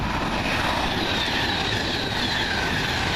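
A Class 350 passenger train from Birmingham to Euston rushes through Cheddington station, a loud, continuous roar of wheels and rumble filling the whole span with no gaps.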